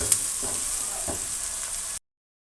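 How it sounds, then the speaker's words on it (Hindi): Onions sizzling steadily in hot oil in a pan for chicken karahi, softening rather than browning, a close continuous frying hiss that cuts off abruptly. "तो अब मैं डालूँगी प्याज"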